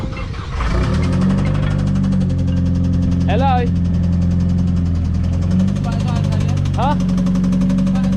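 A Mitsubishi Evo X 4B11 engine running low on oil idles loudly and steadily close by, a thick continuous drone with a faint whine, while people talk briefly over it.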